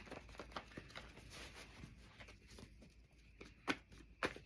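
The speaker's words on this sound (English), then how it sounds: "Let's get a quick shuffle." A deck of cards is shuffled for a reading, giving soft riffling patter and a few sharp, close snaps near the end, faint and alone in a quiet room.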